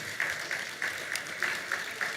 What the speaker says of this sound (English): Another warm round of applause for them.